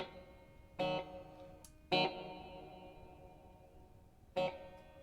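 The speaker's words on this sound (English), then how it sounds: "add yourself a bunch of reverb" Three strummed electric guitar chords spaced apart, each ringing out with a long, washy reverb tail between strikes.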